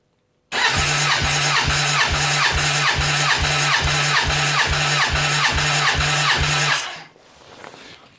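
A Suzuki Bandit 1200 motorcycle engine cranks on the starter for about six seconds with the ignition on, a loud, rhythmic chugging whir of even compression pulses that stops abruptly, leaving faint background noise.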